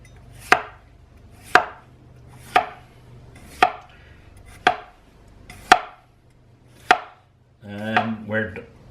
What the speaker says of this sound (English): we are going to do some chopping